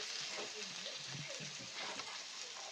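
Onion and chopped tomato fry in a pan for a pasta dish, giving a soft, steady sizzle with faint stirring scrapes throughout, fairly quiet and even.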